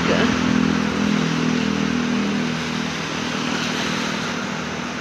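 A motorcycle rumbles past on a downtown street, its steady engine drone loud at first and easing slightly as it moves on, with faint voices and street noise underneath.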